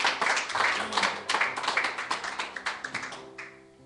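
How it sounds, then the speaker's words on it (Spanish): An audience at a Spanish-language church teaching claps for a volunteer, beginning as a dense burst of applause and thinning into a few distinct, rhythmic hand claps near the end, close and fairly loud. "Denle un aplauso porque se animó"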